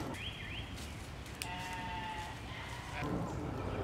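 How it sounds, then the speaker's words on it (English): A sheep bleats a few times over steady outdoor background noise, the calls wavering and moderately close. "Mouton."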